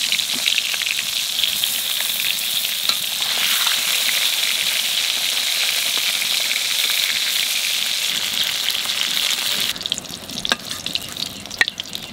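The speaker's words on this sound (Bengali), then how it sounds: "বেগুন ভাজা তেলের মধ্যে দিয়ে দেবো" Eggplant fries in hot oil with a loud, dense, continuous sizzle that drops to a quieter crackle near the end.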